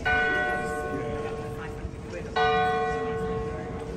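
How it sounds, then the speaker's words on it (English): A town church bell in Guernsey rings with a rich, lingering tone, struck again about halfway through, its ringing overtones hanging in the air over faint background noise. "the town church, which was making that noise before the bell ringing"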